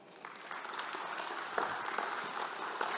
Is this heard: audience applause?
yes